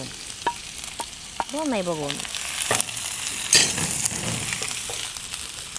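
Sliced onions fry in smoking-hot mustard oil, giving a steady close sizzle with scattered clinks and stirring scrapes, briefly joined by a short high squeal, with no talking.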